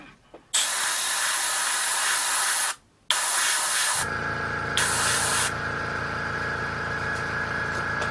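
A Gallery Ace GHAC 98 dual-action airbrush sprays paint in loud, close hissing bursts broken by brief pauses, then a compressor starts humming steadily underneath.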